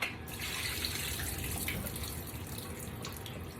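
Quartered squirrel pieces rinsed under a running kitchen tap, a steady close splashing rush of water with slight shifts as the meat is turned, no voices.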